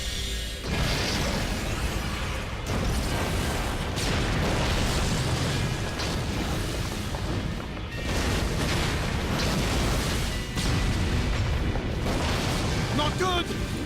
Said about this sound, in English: It was like an explosion to me.